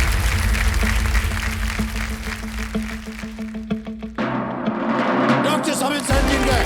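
Studio audience applauding on the Indian TV game show Kaun Banega Crorepati, Season 14: loud, dense, continuous clapping, layered with steady show music for the first four seconds, then carrying on by itself at full strength.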